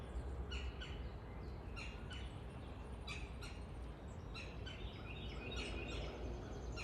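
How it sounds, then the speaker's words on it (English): Birds sing outdoors in Virginia during a solar eclipse. Scattered chirps and calls rise over a steady background hiss, fairly distant and soft, with no voices. "The birds are singing, maybe a little louder than usual."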